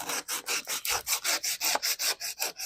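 Sanding by hand across chiseled wood to smooth out bumpy chisel marks, a quick steady rhythm of about a dozen rasping strokes, close and moderately quiet, with no talk.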